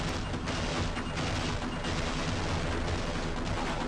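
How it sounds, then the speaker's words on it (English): Heavy gunfire and explosive booms in Half-Life as a tank attacks, a dense, continuous barrage of loud blasts and rattling shots with no talking. "Got a tank."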